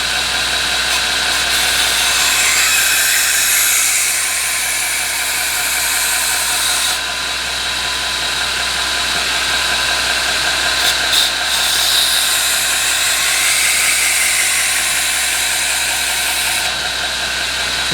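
Knife blade pressed against a belt grinder driven by a variable frequency drive, a continuous loud motor hum with a bright abrasive hiss that drops away briefly twice, with no talk.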